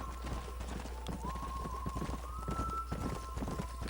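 Horse hooves clip-clop steadily in the video game Red Dead Redemption 2, a continuous rhythmic trot under a faint tonal hum and ambient game sound.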